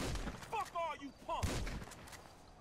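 Gunfire in GTA 5 thumps beneath an excited voice shouting in Portuguese, with low booming shots scattered through a muffled, echoing game mix.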